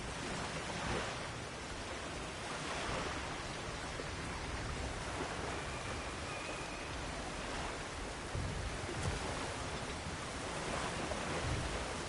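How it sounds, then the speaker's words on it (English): Rushing water in God of War Ragnarok, a broad continuous roar of flowing water like heavy surf or a torrent, steady and fairly loud with slight surges, with no voices over it. "The water rushing above us, to be clear."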